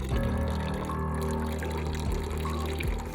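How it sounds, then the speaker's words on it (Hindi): Water is poured steadily onto the memorial tomb of BSF soldiers in the Thar Desert, a continuous close splashing pour over a low outdoor rumble. "बीएसएफ के जवान और अधिकारी ने समाधि पर पानी चढ़ाया"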